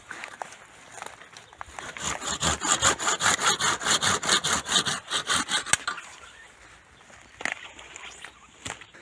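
A hand saw cuts through a frost-damaged branch of an eight-year-old apricot tree during spring pruning, with about fifteen quick, rhythmic rasping strokes that stop abruptly. A few faint knocks and rustles follow.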